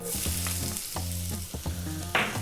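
Garlic and ginger fry in oil over full high heat, a steady hiss with tonal hum beneath, clinking stirs recurring at a loose rhythm, then a louder sizzling burst near the end as more goes in.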